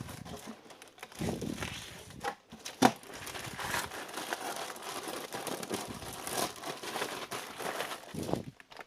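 A cargo package being opened, with close crinkling and rustling of plastic and paper wrapping in irregular bursts, one sharp tear-like snap.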